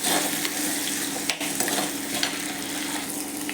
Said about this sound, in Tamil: வெங்காய வடகத்தை போட்டு நல்லா தாளிச்சிக்கலாம்.